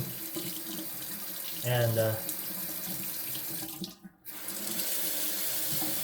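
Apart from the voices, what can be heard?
water running from a tap, trying to get hot water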